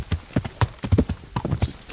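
Hooves clip-clop at a steady trotting pace from a horse in Kingdom Come: Deliverance, a medieval role-playing game, the rhythmic footfalls close and clear with no galloping.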